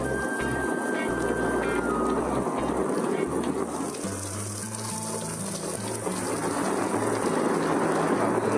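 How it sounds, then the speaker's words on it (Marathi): Heavy rain pours in a steady, dense hiss throughout, with low background music swelling beneath it in a Marathi TV drama scene. "इथे असाच थांबलो तर एवढ्या पावसात अडकेन"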